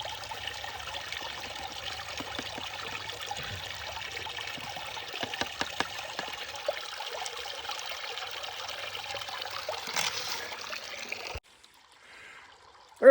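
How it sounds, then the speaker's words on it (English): Water washing material through a gold sluice box in the hills: a steady close trickling and rushing flow with small gritty clicks, stopping abruptly near the end. "So you just do a little shaky wiggle action, moving it back and forth so you don't overload one area of the sluice"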